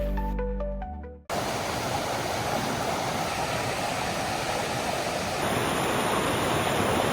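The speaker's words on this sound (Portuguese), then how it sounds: "pelo som forte de água, parece que finalmente chegamos" After a short burst of music cuts off, a powerful, continuous roar of rushing water from a close waterfall fills the rest.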